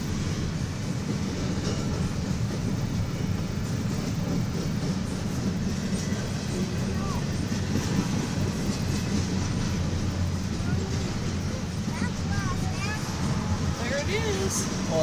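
Canadian National 2192 freight train rolling through Effingham, Illinois, a loud continuous rumble and rattle of wagons passing close by for the full length, with faint squeals near the end.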